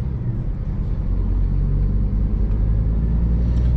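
A new Scania solo truck's engine pulls steadily under load, a continuous deep rumble heard from inside the cab, loud and even throughout with no talk.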